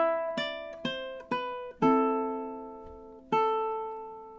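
Ukulele plucks single melody notes of the Luigi's Mansion main theme, a short run of bright, quick attacks that each decay, followed by longer ringing notes, quiet and close with no speech.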